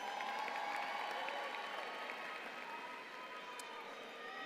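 Steady, dense applause from a graduation ceremony audience at Frederick Douglass High School, fairly close and continuous throughout with a few scattered whoops mixed in.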